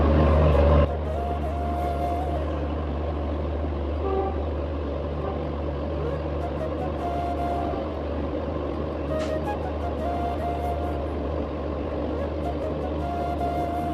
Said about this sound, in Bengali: তো এই যে ট্রেন ছেড়ে দিয়েছে